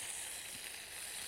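Crawfish frying in a pot of hot oil give a steady, continuous hiss and sizzle, fairly close and even throughout with no talk over it.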